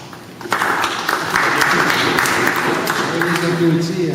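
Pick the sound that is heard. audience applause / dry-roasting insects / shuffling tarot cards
audience applause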